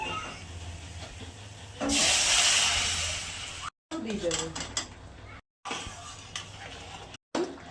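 Hot water goes into egg curry cooking in a pan and sets off a loud burst of hissing steam, followed by clinks of a pot and utensils amid gaps of silence.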